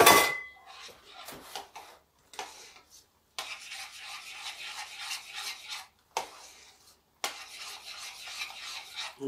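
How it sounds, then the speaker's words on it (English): Seasoned food being stirred and mixed in a bowl at home, repeated scraping and rubbing strokes of a utensil against the bowl in bursts separated by short pauses, close and moderately quiet. "we're going to give this a good mix"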